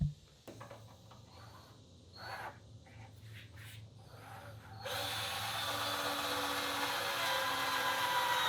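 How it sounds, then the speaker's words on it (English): A power drill bores pocket holes into wood for a table top; after a few quieter knocks and handling sounds, the drill starts and runs loud and steady to the end. "we've got to drill some pocket holes through here"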